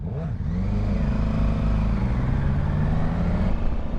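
A Honda Africa Twin Adventure Sports 2021 motorcycle pulls away with a steady, loud engine drone whose pitch climbs and shifts through revs, heard up close from the rider's position with no voices.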